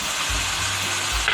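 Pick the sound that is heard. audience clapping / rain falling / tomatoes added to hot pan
tomatoes added to hot pan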